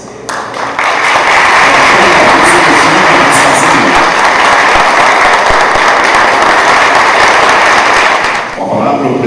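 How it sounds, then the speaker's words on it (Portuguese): A large auditorium audience applauds the governor of Minas Gerais at a bar association seminar, loud, dense clapping rising quickly and sustained for about eight seconds before tapering off. "Agora vamos convidar todo o auditório para darmos uma grande salva de palmas ao governador do"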